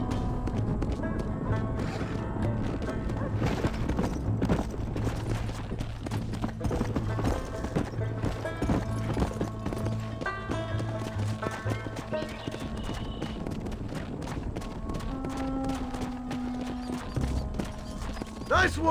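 In Red Dead Redemption, horse hooves clip-clop in a steady galloping rhythm throughout, with a whinny and game ambience, while characters talk over it.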